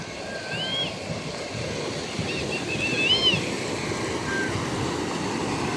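Stream water rushing over a check dam in a large creek near Anantapur, heard as a broad, steady roar, with a few thin bird chirps above it and no talk.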